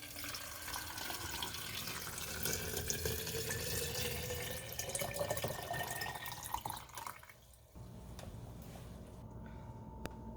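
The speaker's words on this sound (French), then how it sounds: "Vous remplissez vos bocaux avec de l'eau filtrée." Filtered water pours steadily into glass jars for homemade apple cider vinegar, a continuous splashing stream with a rising fill tone, then a quieter trickle near the end.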